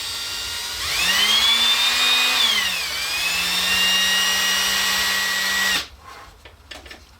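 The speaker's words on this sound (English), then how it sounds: "just going to chuck them up in a cordless drill, just gently." A cordless drill spins wooden toy axle pins for sanding, whirring steadily, its motor pitch rising, dipping, then holding for several seconds before cutting off, followed by faint handling noises.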